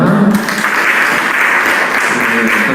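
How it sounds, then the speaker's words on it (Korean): Church congregation applauding to welcome a group of five students at a Korean family church service, a loud dense wash of clapping filling the whole stretch with a few voices underneath. "환영의 박수 한번 보내주시기 바랍니다"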